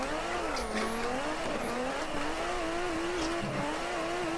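A Nissan Skyline R32 drifting in the racing game Assetto Corsa: engine note rising and falling with sustained high tire squeal throughout, loud and continuous with no talking.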